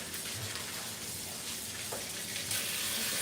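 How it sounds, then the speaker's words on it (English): Dishes being washed under a running tap in a home kitchen while making breakfast: steady hiss of flowing water with faint clinks and splashes, fairly quiet, no talking. "let me wash these real quick."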